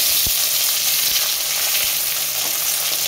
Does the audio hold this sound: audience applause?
no